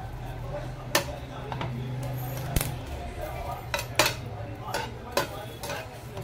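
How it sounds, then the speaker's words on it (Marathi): Green chillies are pressed and dry-roasted in a pan, a quiet scene of intermittent sharp utensil clicks and taps against metal over a low background hum, spaced irregularly and fairly close. "थोडी प्रेस करून करून मिरची भाजून घ्यायची"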